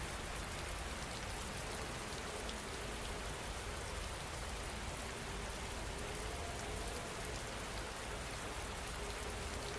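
Steady rain falls at night in a small town, a dense, continuous hiss of drops on surfaces, even and unbroken throughout with no voices.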